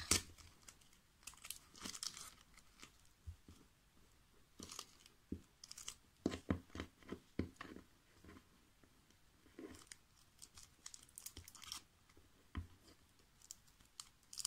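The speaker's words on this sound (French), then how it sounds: "J'enlève ensuite mon scotch." Adhesive tape peeled off a craft wrap project, a long run of quiet crinkly tearing and crackling bursts with small clicks, close up and irregular.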